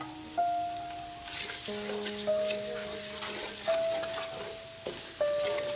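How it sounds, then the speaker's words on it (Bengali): Panch phoron spices fry with ginger paste in a pan, giving a soft steady sizzle and occasional stirring scrapes that sit quietly beneath background music. "পাঁচফোড়ন দিয়ে আর একটু ভেজে নিচ্ছি"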